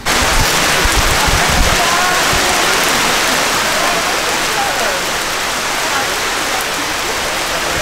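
Heavy rain falls in the Borneo rainforest, a loud, continuous hiss of drops on leaves and surfaces that stays steady throughout, with faint voices in the background.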